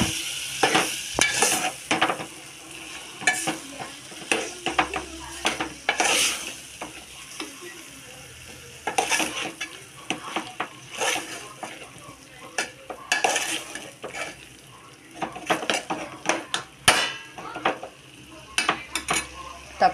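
Mixed vegetables sizzle in a pan while a spoon stirs and scrapes them, giving repeated sharp metallic clinks and scrapes in irregular bursts over a steady frying hiss, close and fairly loud throughout.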